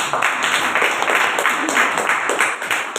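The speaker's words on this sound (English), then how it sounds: "Can we give him a big round of applause?" A Toastmasters club audience applauds its VP Education with a dense, steady wash of clapping from many hands, loud and continuous throughout.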